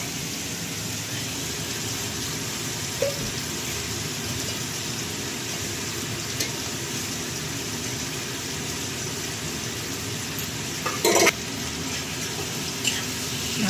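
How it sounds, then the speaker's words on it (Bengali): Vegetables fry in a pan with a steady, even hiss like rushing water, broken by a few brief clinks of stirring. "এর জন্যই এরকম ভাজলাম।"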